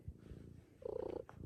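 A cat purrs close by, a low steady rumble that swells louder in the second half.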